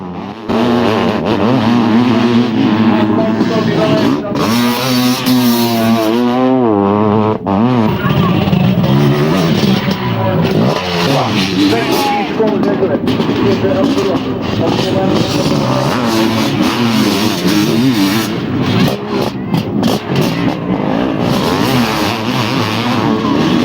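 Several 500cc motocross motorcycles race through deep sand at Valkenswaard, their engines snarling and revving loudly and continuously, with pitch rising and falling as bikes pass. A commentator talks over the engine noise throughout.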